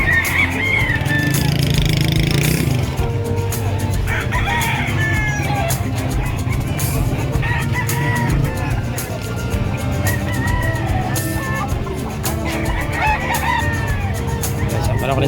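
Chickens and roosters at a busy Pangasinan livestock market cluck and crow repeatedly over a dense background of crowd noise and passing vehicles, while people talk loudly throughout.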